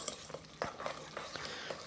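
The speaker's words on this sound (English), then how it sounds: "making sure that you're stirring just enough" Ground chicken dumpling filling being stirred in a bowl, soft sticky squelches and light utensil scrapes in an uneven rhythm, close and quiet.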